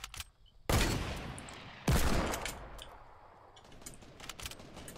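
Rifle fire in the Fortnite video game comes as two sharp, loud shots about a second apart, each trailing into a decaying rumble, followed by fainter scattered pops.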